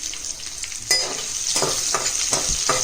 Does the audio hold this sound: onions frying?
yes